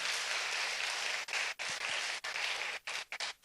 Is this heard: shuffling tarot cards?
no